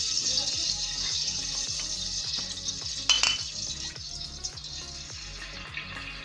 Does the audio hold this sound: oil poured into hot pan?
yes